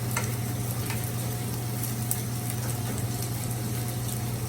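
Leftover rice fries in a pan with a steady, close sizzle and crackle, a continuous frying hiss broken by occasional spatters and stirring scrapes, with no talking.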